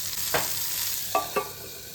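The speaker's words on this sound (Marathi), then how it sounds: "हे आता मिक्स करून घ्यायचं व्यवस्थित" Soft sizzle of green chillies frying, broken by three short scraping strokes of a spoon stirring the pan, the last two close together.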